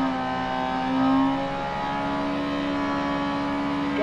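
A rally car engine in Dirt Rally 2.0 is held at steady revs on the start line, a sustained tonal drone that swells briefly and then settles, with no talk.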